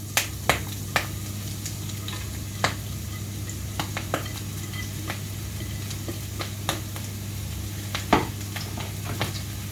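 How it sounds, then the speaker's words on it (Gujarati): Mixed vegetables stir-frying in hot oil for noodles in a home kitchen, a steady sizzle with a constant hum beneath and scattered clinks and scrapes of a utensil against the pan. "તો હું મારા બધા વેજીટેબલ્સ પહેલાં સોતે કરીશ"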